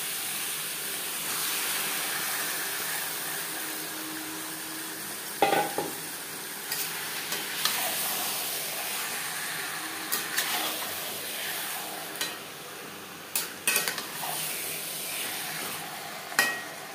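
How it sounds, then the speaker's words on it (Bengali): Chicken with onion and ground spice paste is stirred in a pan: a soft continuous sizzle with scattered spoon scrapes and knocks, close and fairly quiet, with no voices. "পেঁয়াজও মশলার সাথে চিকেন বেশ ভালো করে মিক্স করে দেবো।"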